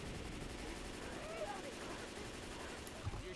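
Gunfire from a Left 4 Dead 2 shootout, a dense, steady rattle of automatic shots running throughout with a few sharper bursts, while voices talk over it.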